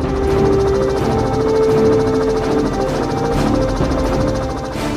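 Helicopter flying over a large farm cut by rivers, its rotor beating in a steady rapid chop with a loud, continuous engine whine close by.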